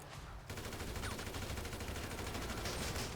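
Rapid bursts of gunfire in GTA 5 crackle continuously in a dense, steady stream after a brief quieter moment, with no voices.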